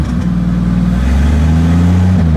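Draw-through carbureted turbo V8 in a '56 build running just after a cold start, a loud close rumble rising in pitch as it revs, rough and uneven, with no talk over it.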